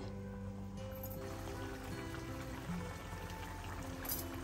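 Broth pours onto fish in a cooking pan, a steady soft liquid stream with a faint trickling quality running throughout, fairly quiet and with no talking.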